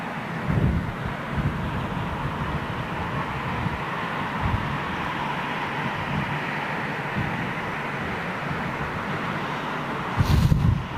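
A jet airliner taking off in strong crosswind, a broad distant roar of engine thrust spread under heavy gusty wind noise, steady over a long stretch with a few buffeting bumps.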